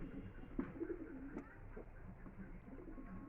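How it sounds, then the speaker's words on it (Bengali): Female pigeons of a large-sized flying breed cooing close by in soft, repeated low coos, with a steady background hum and no talk. "এটা মাদা পায়রা"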